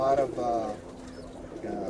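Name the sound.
young pigeons cooing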